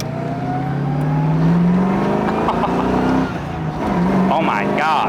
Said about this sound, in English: We actually have a green light for the first time in forever, so we're gonna go for it. Get into 2nd gear.